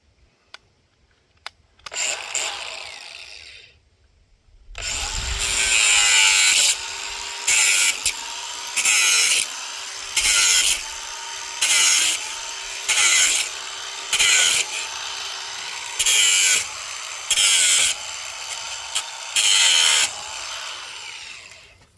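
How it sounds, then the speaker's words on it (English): A DeWalt angle grinder with a cutoff blade cuts old stapled fence wire at an end post. A few small clicks, then a loud steady whine, followed by a dozen rhythmic bursts of grinding that rise and dip as the blade bites. "my nice little DeWalt angle grinder with a cutoff blade works excellent"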